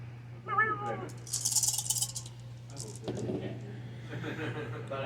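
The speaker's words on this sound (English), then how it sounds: "It's my neighbor's cat." A neighbor's cat meows a few times, fairly close and clear, in a room during a tabletop miniatures wargame session, with people talking around it and a steady low electrical hum underneath.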